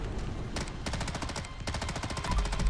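Rapid bursts of SIG MCX Shrike rifle fire in the video game Fallout 4, two long, loud automatic strings of closely spaced shots with a brief pause between them and no voices.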